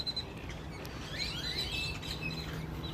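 Pet birds kept indoors chirp and tweet in quick, bright bursts against a steady background hum, with several calls overlapping at moderate loudness.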